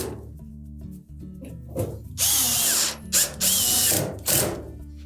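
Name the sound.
power drill driving screws into Samsung dryer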